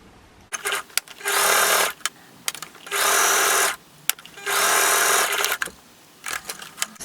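A sewing machine stitching a skirt being refashioned into a dress runs in three loud sustained bursts, each about a second long, separated by short pauses with small clicks and handling noises.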